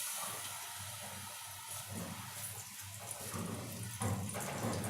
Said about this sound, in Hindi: घी गर्म हो चुका है। अब हम इसमें गोला कबाब डालेंगे